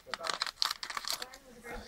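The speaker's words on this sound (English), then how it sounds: "now let's open this one with the scissors." Scissors snip into plastic toy packaging holding a Minions collectible figure, making a run of close, crisp clicks and crinkles in quick uneven succession, with a voice talking at the same time.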